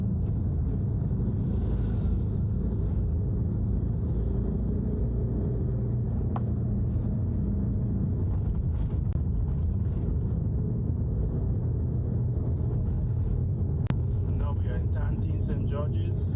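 A car travelling along the Springs Main Road in Grenada toward St. George's, a continuous low engine and road rumble throughout with occasional faint clicks.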